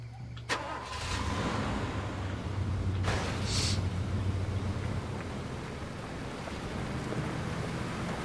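A car engine starts in the video game Far Cry 2, with a sharp click and crank that settles into a steady, close mid-range idle lasting the rest of the clip, and no talk over it.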